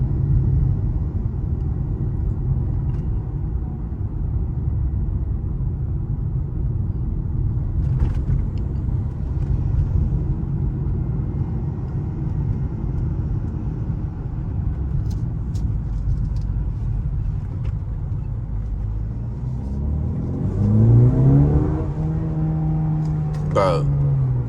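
Mercedes-AMG car engine running steadily with a low rumble while driving with the windows down, then revving and rising in pitch near the end, with people talking over it inside the car.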